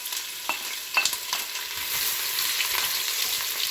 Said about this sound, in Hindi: चलें जी, अब ऑयल हमारा गर्म हो गया। अब मैं इसमें प्याज डालूंगा।